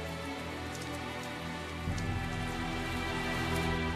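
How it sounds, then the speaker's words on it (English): Rain falling in the video game Tales of Zestiria, a dense steady patter that swells louder partway through, mixed with a sustained tonal background score. "it's beginning to rain."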